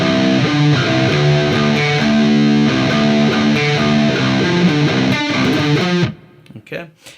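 An electric guitar plays a riff. The tone is loud and distorted, with chugging, rhythmic palm-muted notes, and the riff stops abruptly near the end, leaving faint noise.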